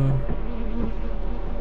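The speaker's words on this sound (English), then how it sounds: "Bees! Yeah, I hear bees too! I hear bees!" Buzzing of bees from a beehive in the video game Lethal Company, a brief, steady insect drone heard close and alone.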